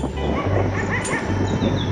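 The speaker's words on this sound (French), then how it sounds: "on va se faire bouffer par des chiens" Dogs bark and give short whimpering yips over a constant low hum, fairly close and busy for under two seconds.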